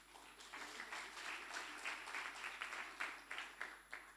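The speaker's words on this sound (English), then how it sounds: "let's have another round of applause for the questions and the comments" Sustained applause from a lecture audience, steady clapping with a few sharper claps standing out, continuing for several seconds.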